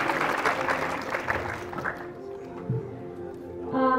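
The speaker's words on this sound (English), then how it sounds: "A big applause again." Applause from an audience at a bilingual academic gathering, dense clapping for a couple of seconds that thins and fades, with voices murmuring underneath.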